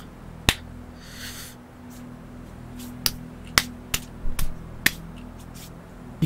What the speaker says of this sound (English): You can't tell, man, but I'm just clapping my hands